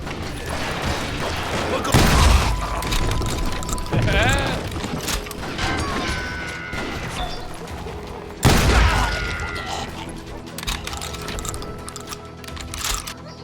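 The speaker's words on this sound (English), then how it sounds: "They're shooting in the street." Gunfire in a street shootout in the video game Call of Juarez Gunslinger: loud, sharp shots and booms strike at intervals over rattling mechanical noise, with voices talking in between.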